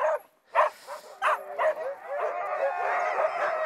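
Sled dogs barking and yipping close by as they are hitched to the sled, sharp separate barks at first giving way to a continuous chorus of overlapping yelps and howls.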